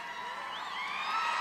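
A large crowd at an outdoor political rally in Prescott, Arizona cheers and whoops in a sustained, distant roar of many voices that swells slightly toward the end.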